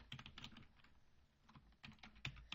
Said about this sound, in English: let me quickly type it